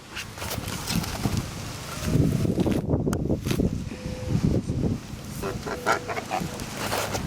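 Geese honk repeatedly in a cluster, nasal calls overlapping at close range over rustling, with a brief quieter gap partway through.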